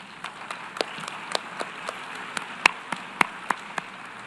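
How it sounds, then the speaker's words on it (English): Delegates at a UN meeting marking 30 years of the Beijing Declaration give the speakers sparse applause: scattered individual claps over a soft hall murmur, with no voices. "maybe we have applause for all of the speakers again"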